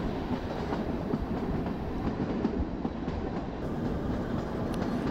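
The Kalka–Shimla toy train rolls along its mountain track, heard as a continuous rumbling roar with faint rhythmic wheel clatter and no speech.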